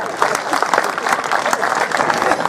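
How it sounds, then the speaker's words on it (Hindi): Audience applause at a Hindi comedy poetry recital (kavi sammelan) honoring soldiers, a dense, steady clapping from a crowd filling the whole stretch. "अच्छा व्यंग्य, तालियां हो जाए आपकी"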